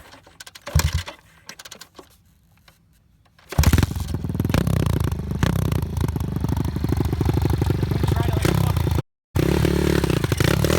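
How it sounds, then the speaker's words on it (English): A dirt bike's exhaust puffs on a riding track. After a quieter rattling start, it turns loud and close with a steady, throbbing chug that cuts out briefly once before resuming. "Exhaust is puffing."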